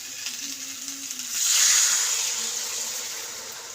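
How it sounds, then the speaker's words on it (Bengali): Water poured into a pan of fish and kohlrabi curry after the spices are fried down, a sudden broad hiss and sizzle that swells at once and then slowly eases, close and alone. "কষা হয়ে গেছে, এবার জলটা দিচ্ছি"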